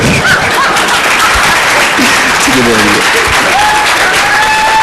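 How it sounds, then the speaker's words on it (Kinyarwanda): Hall audience applause at an event, a dense, loud, continuous roar of many hands clapping with some murmured voices and chuckles mixed in. "Amashyi menshi."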